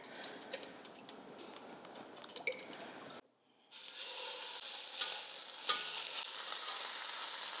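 Meat sears in a very hot Dutch oven for pozole, a loud, steady broadband sizzle that starts abruptly after a brief silence and runs on close and unbroken, preceded by sparse light ticks and clatter.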